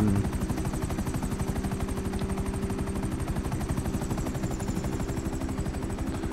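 A helicopter's rotor chops rapidly and steadily, loud and close, with a constant engine whine over a GTA 5 Online video-game soundscape.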